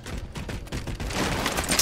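Rapid gunfire from the video game Halo 4, a dense burst of repeated shots lasting under two seconds, loud and close with no talk over it.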